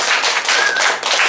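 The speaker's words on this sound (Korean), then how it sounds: "박수 한번 하겠습니다" Applause from a church presbytery assembly of pastors: a dense, steady burst of many hands clapping together, loud and close, with no talk over it.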